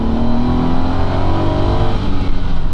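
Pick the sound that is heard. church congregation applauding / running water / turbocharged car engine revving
turbocharged car engine revving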